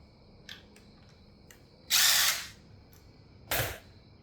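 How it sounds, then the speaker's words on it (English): A power drill bores out a rivet on a C5 Corvette seat in two loud, close bursts, a longer whine followed by a shorter one, with faint clicks and taps in between. "Now, I'm going to go ahead and drill this puppy out."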